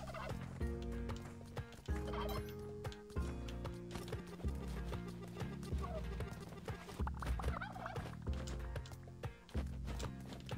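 Turkeys gobbling in the video game Spelunky 2, repeated calls layered over dense, continuous game music and effects, with a few hoof-like clip-clop sounds mixed in.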